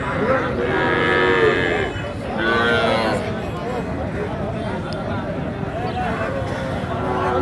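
Cattle low loudly at a busy rural cattle market, Ambari haat in Dinajpur, with several drawn-out moos close by over a background of people talking and general crowd hubbub.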